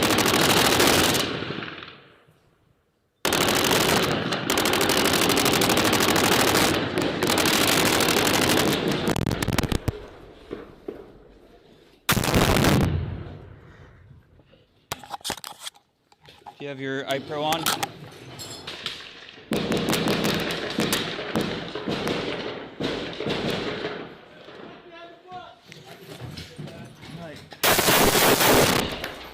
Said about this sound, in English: You now hear the other soldiers in the room firing.